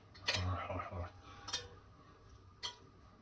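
Food being stirred in a pot with calamansi, giving a few quiet, scattered metallic clinks and scrapes of a utensil against the pot, with brief pauses between strokes.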